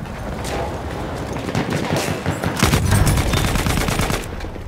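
Rapid machine gun bursts in a Battlefield 1 World War I battle, loud and dense, with sustained rattling fire and scattered gunshots building through the middle and continuing to the end.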